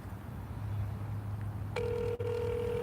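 A telephone call rings out with a steady electronic tone, then a brief click and a higher sustained beep as the line switches over toward voicemail, fairly quiet against background hiss.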